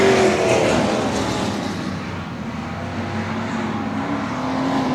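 Race cars at Cotton Bowl Speedway come off turn four in a steady, loud engine roar that swells and dips slightly as the pack passes, with no voices heard.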